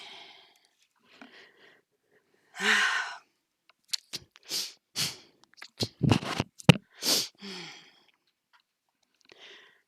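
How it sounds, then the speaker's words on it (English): Some quiet breaths and sniffs build up, then a sharp close sneeze bursts out, followed by a few softer breathy sounds and silence. "Excuse me, I'm going to sneeze."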